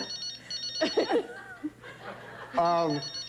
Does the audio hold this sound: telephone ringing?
yes